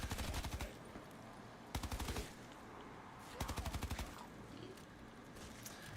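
Rapid automatic gunfire in Black Ops 3 Zombies, heard as three loud, tightly spaced bursts with quieter game ambience between them.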